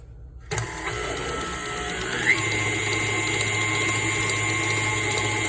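An electric mixer whirs steadily through low carb chocolate chip cookie dough with an egg just added, starting abruptly and holding a constant motor hum with a slight pitch shift, no talk over it.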